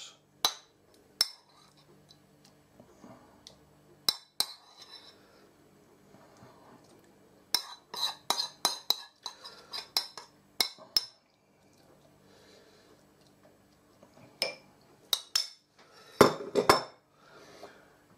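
A spoon clinks and taps against a dish while a mixture is spooned over lettuce for a 1970s-style dinner party dish, giving sharp, irregular metallic chinks in clusters separated by near silence.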